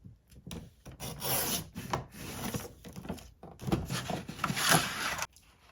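Scissors cut through a paper envelope in several close rasping snips, each a burst of crisp rustling noise separated by brief pauses, ending abruptly.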